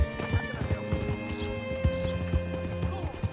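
Horse hooves clip-clopping in Red Dead Redemption 2, a steady rhythmic series of close hoof strikes over a sustained musical score backdrop.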